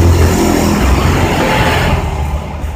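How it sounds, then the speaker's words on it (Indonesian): A German-built Volkswagen Kombi van, formerly used at an airport, runs with a loud, steady engine rumble that holds evenly throughout and eases slightly toward the end. "Mesin hidup bisa jalan."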